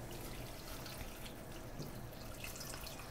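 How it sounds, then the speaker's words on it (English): Water pours steadily into a pot holding chicken wing tips and vegetable scraps of onion, carrot and green pepper, a soft continuous splashing trickle heard close and fairly quiet with no talking. "then we're going to cover this with water"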